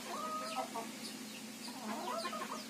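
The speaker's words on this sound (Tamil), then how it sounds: "என் கோழிகள் எப்படி கொத்தி சாப்பிட்றாங்க பாருங்கள்." Native country chickens pecking at feed, clucking softly and steadily at close range, with faint background noise and no talk.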